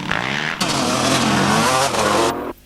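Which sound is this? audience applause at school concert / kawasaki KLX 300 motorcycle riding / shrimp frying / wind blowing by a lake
kawasaki KLX 300 motorcycle riding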